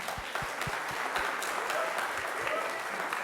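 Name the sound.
round of applause for coach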